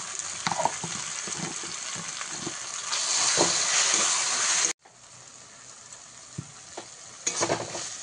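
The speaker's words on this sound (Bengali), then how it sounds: "এইভাবে মশলাটাকে ভালো করে কষিয়ে নিয়ে তেল ছেড়ে গেছে" Spice masala with added turmeric, for a chicken gravy, fries in oil in a pan with a loud continuous sizzle and repeated stirring scrapes, sharply cut off partway through before resuming more quietly.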